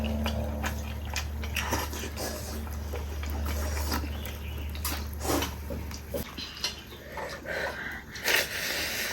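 Close, wet chewing and biting of charcoal-grilled pork intestine with roasted garlic, steady mouth sounds with a low hum underneath and scattered crunchy clicks.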